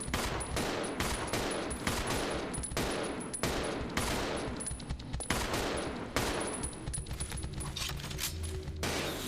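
Rapid bursts of gunfire ring out in Resident Evil 0 HD as a player shoots swarming bugs in an underground area, a loud, steady barrage of repeated shots with little pause.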